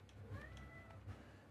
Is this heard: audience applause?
no